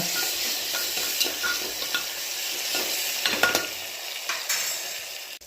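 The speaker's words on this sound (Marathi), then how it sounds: "टमाटर टाकलं की हलवून घ्या" Tomatoes being stirred and frying in a pan for soybean chunk khichdi, a continuous hiss of sizzling broken by repeated scraping strokes and light metallic clinks of the spoon, no voices.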